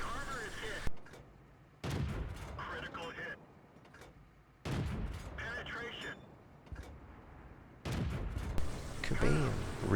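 In the World of Tanks video game, an AMX 13 75 tank cannon fires on Sand River in repeated sharp booming blasts, each followed by a rumbling decay, with several shots spaced a few seconds apart.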